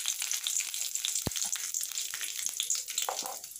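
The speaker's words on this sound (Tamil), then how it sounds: "ஒரு 3 காஞ்ச மிளகாய் ஆட் பண்ணிக்கோங்க. இதை வந்து ஒரு 20 செகண்ட் லைட்டாக வறுத்துக்கோங்க. ஸ்லோ ஃப்ளேமில் வச்சுக்கோங்க" Dried red chillies roast in a pan over a slow flame, giving a steady soft crackle and sizzle close by, with one sharp knock partway through and no talking.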